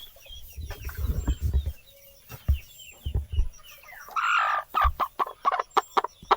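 Hens cluck and murmur nearby in short, irregular bursts, with scratching and rustling sounds between the calls.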